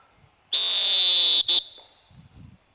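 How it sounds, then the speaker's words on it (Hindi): A referee's whistle starts a kabaddi match in a youth championship, giving one long, loud, shrill blast and then a short second toot. Faint crowd murmur follows afterward. "सागर पंचाल ने बजा दी सीटी"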